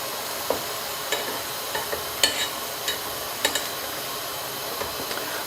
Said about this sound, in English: Give it a quick stir. Turn around the meatballs.